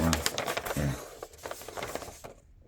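A Marathon 1000 DLX Hangul two-set typewriter being typed on, giving a brisk run of close, crisp key strikes in an uneven rhythm that stops near the end.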